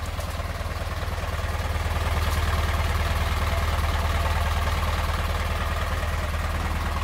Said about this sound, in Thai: เครื่องยนต์สี่สูบนะครับ